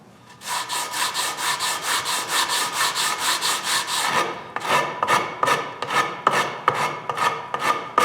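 Hand sanding of a guitar neck with 60 grit paper on a block, a close, rhythmic rasp of quick even back-and-forth strokes that slow into longer, spaced strokes partway through.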